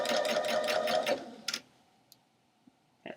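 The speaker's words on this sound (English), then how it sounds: "I'm going to do a straight stitch as well, same as I just did." A sewing machine sews a straight stitch through layered scarves, a rapid rhythmic mechanical whir for about a second that then stops, followed by a few faint clicks and taps as the fabric is handled.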